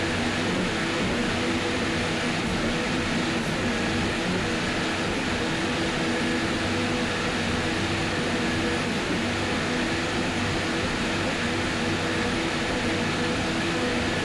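A 42-foot Fountain powerboat with Mercury Racing 525 engines races at full throttle in an offshore powerboat race, a loud, steady engine roar with no break for the whole stretch.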